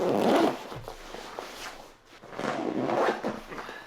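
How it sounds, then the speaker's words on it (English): A backpack zipper is drawn closed in two or three long, rasping pulls, close and fairly loud, with a short pause in the middle and no one speaking. "So then zip your backpack up."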